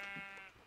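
A single short sheep bleat from Minecraft, a faint, quick wavering cry that fades away, heard alone.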